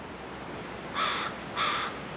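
Two distinct harsh raven caws ring out outdoors, medium-distant, as ravens and magpies harass a bald eagle perched overhead, with faint ambient background noise and no talk.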